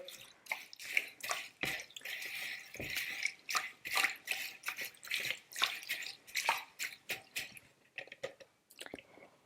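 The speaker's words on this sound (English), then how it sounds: "I have some water in here. I'm just going to move it around and just get any of the debris off." Water sloshes and swishes as rice grains are swirled by hand in a bowl of water to rinse off debris, a steady wet churning with soft drips, no voices.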